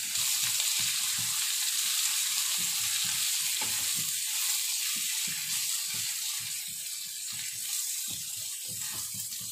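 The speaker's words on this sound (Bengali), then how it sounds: "আলুটা বেশ হালকা ভাজা ভাজা হয়েছে" Potatoes fry with green chilies and Kashmiri chili powder in a pan. The sizzle is constant and close, with a hiss and crackle that carries on through the whole stretch, and there is no talking.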